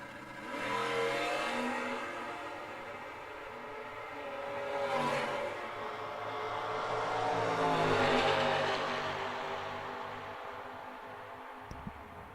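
Cars drag racing down the strip at a Midwest Sportsman event: engines roar and climb in pitch as they accelerate, heard from a distance in swelling waves over about twelve seconds.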